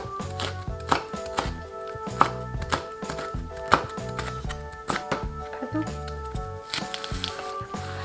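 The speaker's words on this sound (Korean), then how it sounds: "홍고추 반 갈라서 어슷 썰어주세요." A knife slices a halved red chili pepper diagonally on a cutting board in quick, even, close taps that repeat steadily over a constant tonal background hum.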